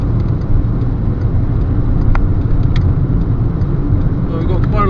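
A 2009 Skoda Octavia TSI estate rounds a roundabout at about 30 mph, giving a steady low engine and road hum heard from inside the cabin.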